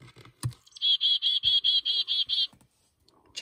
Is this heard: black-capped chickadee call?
yes